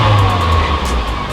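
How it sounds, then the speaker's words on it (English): A 2008 Mitsubishi Lancer GTS engine revs up briefly and loudly at close range, a low throaty roar swelling and holding steady with no talk. "If I rev it up"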